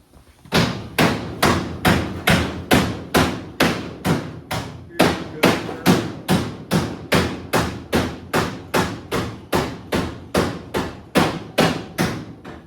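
A ball peen hammer strikes metal in a garage shop in a steady, even rhythm, around thirty sharp ringing hits close by with brief decays between them.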